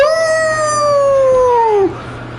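A startled kitten lets out one loud, drawn-out meow that slides downward and cuts off sharply, close to the mic.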